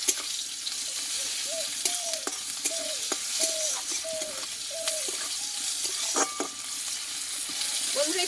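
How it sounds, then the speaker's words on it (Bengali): Chopped onion fries with panch phoron in a pan, giving a steady broadband sizzle with a spoon stirring through it. Short tonal chirps repeat at a regular pace over the frying. "আর দেবো একটু পাঁচফোড়ন আর দেবো একটা পেঁয়াজ কুচানো পেঁয়াজটা আমি একটু হালকা করে ভেজে নেবো"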